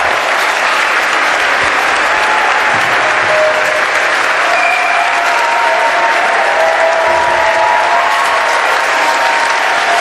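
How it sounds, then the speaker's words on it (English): Loud, continuous clapping from a school award ceremony audience at an annual day event, a dense wash of hands held at full strength from start to finish. "Let me see whether the ladies are clapping loudly or gents."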